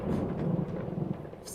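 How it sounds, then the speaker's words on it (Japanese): Thunder in the horror video game Layers of Fear: a low, rolling rumble that swells and fades across the moment, fairly faint and distant. "普通に雷か。"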